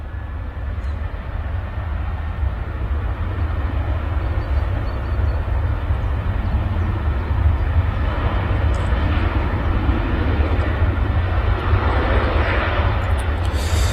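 A Ryanair jet roars steadily on its takeoff run at Manchester Airport, a broad, loud engine rumble that holds constant throughout with no pauses.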